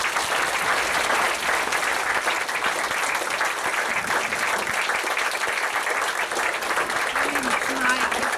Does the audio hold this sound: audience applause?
yes